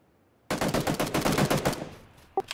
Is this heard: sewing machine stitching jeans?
no